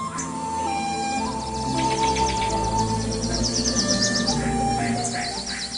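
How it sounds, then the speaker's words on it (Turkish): Birds chirp and tweet in quick repeated bursts against a steady outdoor background, several calls overlapping throughout, moderately loud and close. "Hala kulaklarında kuş cıvıltıları."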